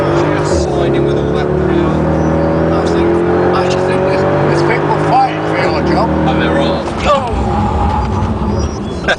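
A big car accelerates hard downhill in second gear, its engine revving loudly and steadily up in pitch close by, with tyre noise from a sliding rear end and someone talking over it.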